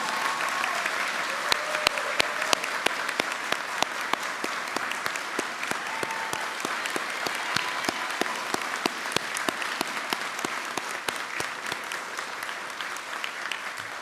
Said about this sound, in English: you can clap. That's okay.